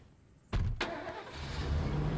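A car engine in the video game State of Decay starts abruptly after a quiet moment. It fires with a sharp burst and then settles into a loud, steady running rumble that continues to the end.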